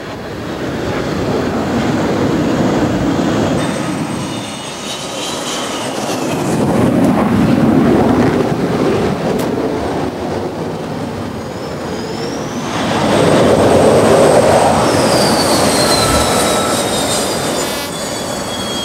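Jet aircraft make arrested landings on an aircraft carrier flight deck, a continuous loud roar of engines and deck machinery that swells and surges in waves, with whining jet tones rising over the rumble.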